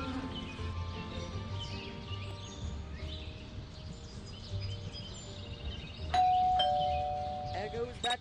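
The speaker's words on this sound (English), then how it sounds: "There goes that stupid bell again." An in-game doorbell rings partway through a Scary Teacher 3D session, a sustained chime standing out clearly over steady game music and ambient background sounds, with a second brief ring near the end.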